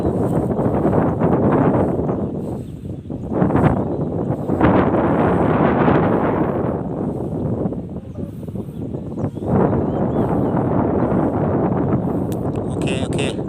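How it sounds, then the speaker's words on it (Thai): Strong wind with rain buffets the microphone outdoors while a large Thai Chula kite is flown in Nong Daeng, Korat, a loud continuous roaring rush that swells and dips throughout. "ลมแรงมากลมฝน ฝนตกดิ่งเลย"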